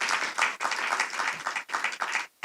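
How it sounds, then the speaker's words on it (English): Conference audience applauding workshop speakers, a short burst of dense clapping with brief dips, fairly soft and close. "I would like you all to give a round of applause, please, for our speakers."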